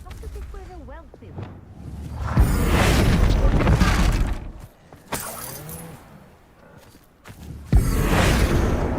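Confringo explosion spell cast in the Hogwarts Legacy video game: loud, booming fiery blasts with whooshing bursts that swell, cut off and return, mixed with game effects and some voice sounds.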